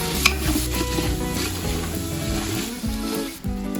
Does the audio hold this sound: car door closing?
no